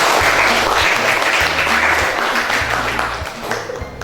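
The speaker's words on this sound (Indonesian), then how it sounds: "tepuk tangan buat Sita" A classroom of students breaks into applause, a dense burst of many hands clapping that carries on steadily, with a few brief low tones underneath, then thins out toward the end.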